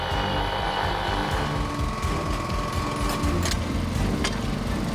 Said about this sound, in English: to shear off the excess steel from the top of the weld.